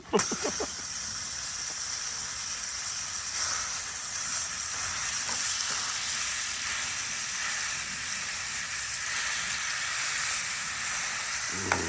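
Sloppy Joe going into a hot pan inside a heated party tent, sizzling: a steady, even hiss of frying that holds at a moderate level throughout, with a brief clatter at the start and no talking.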